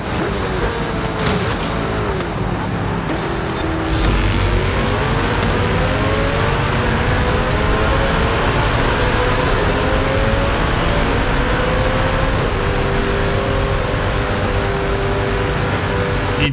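A car engine revs hard during a Forza Horizon 5 Hot Wheels race, a loud continuous roar with rising and falling pitch sweeps through gear changes and a sharp jolt early on, with no voices.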